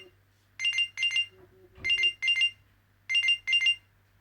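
A phone rings after being triggered by a smartwatch's find-my-gear feature, sounding as repeated pairs of bright electronic ring bursts in a steady pattern, with a brief low murmur of speech between two of the rings.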